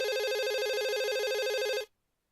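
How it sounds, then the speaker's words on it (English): A telephone rings with a steady electronic warble, one loud unbroken burst of close ringing that cuts off abruptly, followed by silence. "The telephone rang."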